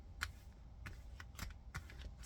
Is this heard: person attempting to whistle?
no